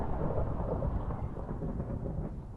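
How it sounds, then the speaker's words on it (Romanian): Rolling thunder from a lightning strike in a Minecraft Hunger Games match: a loud, sustained, broadband rumble that holds steady for a couple of seconds with no talk over it. "O da fulgerul."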